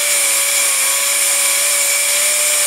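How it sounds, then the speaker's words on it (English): Pneumatic orbital sander working on a thermoplastic plate, a loud, steady high-pitched whine with a constant tone and broad hiss, running without a break from start to end. "Orbital sanders are really nice for sanding thermoplastic"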